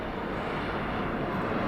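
An airplane passes overhead with a steady, dense roar of engine noise that holds at even loudness throughout the short stretch, with no voices heard.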